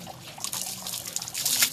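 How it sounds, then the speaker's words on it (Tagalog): Water poured onto a person's face to wash something off trickles and splashes in uneven little spurts, close and moderately loud, with the flow growing heavier toward the end. "Lagyan natin ng tubig para maalis na"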